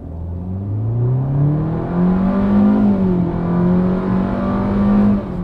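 A 2020 Hyundai Venue with a 1.6-liter naturally aspirated four-cylinder accelerates hard without launch control, the engine note climbing steadily and loudly over several seconds from inside the car, with a brief dip as it shifts.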